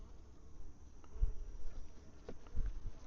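Honey bees buzz faintly around an open hive during a mite-washing inspection, a soft continuous hum with occasional louder low thumps from handling nearby.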